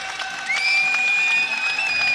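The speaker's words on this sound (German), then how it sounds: "Den Jubel hat er sich verdient." An MMA event crowd cheers and applauds after a submission win by veteran fighter Chris Wilson in the final round. The broad applause swells after a moment, and a shrill whistle rises above the cheering.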